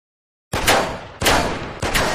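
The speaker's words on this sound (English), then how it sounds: "Can I test my shotgun? Just some test shoots." Three shotgun test shots in the Garry's Mod video game, loud and close, each a sharp blast with a short ringing tail, fired at a steady pace after a moment of silence.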